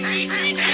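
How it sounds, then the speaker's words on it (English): Ducks flushed into flight by a swooping peregrine falcon give a brief burst of harsh, honking quacks, loud and close, with no talk. "it swoops low in an attempt to frighten and flush the inexperienced ducks into flight"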